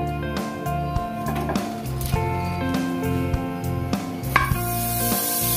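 Butter melts in a pan with a soft, continuous sizzle and occasional stirring taps, heard close under a steady bed of background music.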